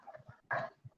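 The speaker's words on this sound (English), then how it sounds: "I'm sure you can hear our dogs. They're out in the yard somewhere." Dogs bark out in a yard, a few short muffled barks, with one louder bark in the middle, faint and distant behind the room sound.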